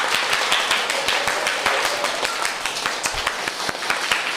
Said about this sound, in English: Please clap those hands.